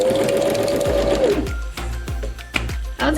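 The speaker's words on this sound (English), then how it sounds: "you just keep going and going until all the triangles are sewed in a line" A sewing machine stitches paper triangles into a garland, its motor whirring loudly up close, then a rhythmic series of needle thumps and clicks as the paper feeds through.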